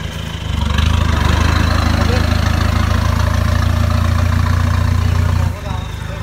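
A pickup truck sunk in mud up to its wheels revs its engine in a loud, sustained roar for several seconds before dropping back toward idle, with people talking over it.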